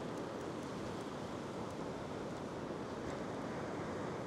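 Ocean waves washing over a rock shelf as the tide goes out after a big swell: a faint, continuous hiss of surf and wind with no voices.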